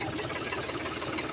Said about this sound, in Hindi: साउंड जा रहा है ट्रैक्टर का